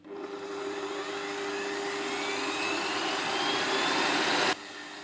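A mixer fitted with a whisk attachment beating strawberry coconut cake batter, a steady loud whirring drone that holds for several seconds before cutting off abruptly near the end.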